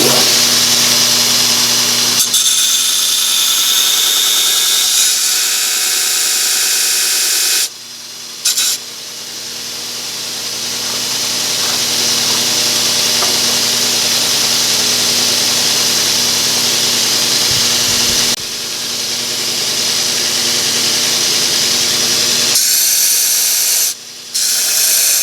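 A power grinder strips the teeth off a saw blade being shaped into an ulu knife, a loud continuous high hiss and whine running in long passes, broken by a few brief pauses as the tool lifts off the steel.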